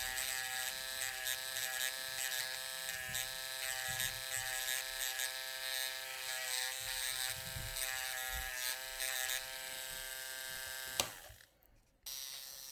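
A French manicure session: an electric nail sander prepares a fingernail near the cuticles with a steady, faint high-pitched whine, running evenly before cutting out near the end.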